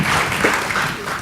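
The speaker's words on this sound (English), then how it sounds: "Please give them an applause." An audience claps for a pair of women at a lecture, a brief, steady wash of applause filling the room without any talking over it.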